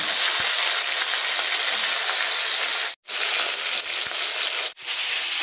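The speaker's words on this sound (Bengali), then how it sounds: "এবার অন্য পিঠটাও আমি ঠিক এইভাবে ভেজে নেব।" Fish frying in a pan for a Bengali fish curry, a loud, steady sizzle with two brief drops in sound along the way.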